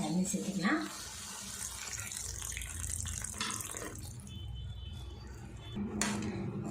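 Water splashes and runs steadily into a pot of soya chunk gravy, a close, continuous pour with a few clinks at the start and end.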